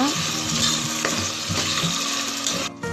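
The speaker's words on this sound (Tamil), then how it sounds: "நல்லா கிளறி விடுங்க" Chicken and tomatoes frying in a pan while being stirred, a dense close sizzle with scraping and clattering of a spoon against the metal, steady throughout and cutting out near the end.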